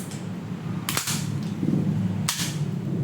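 Two sharp, loud shots from an SRC SR4 gas blowback airsoft rifle, about 1.4 seconds apart, each with a snappy bolt clack over a low steady background hum.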